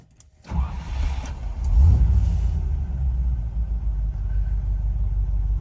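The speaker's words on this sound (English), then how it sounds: "Starts nicely and settles down to a nice idle" A 1990 Land Rover 90 County station wagon's warm V8 cranks briefly, catches, and settles into a deep, steady burbling idle, close and loud with no talk.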